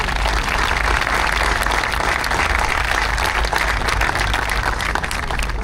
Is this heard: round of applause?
yes